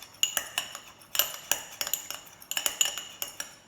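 Rapid metallic clinks of a utensil whisking salad dressing with garlic in a bowl, irregular bursts of light taps, close and fairly quiet with no talking.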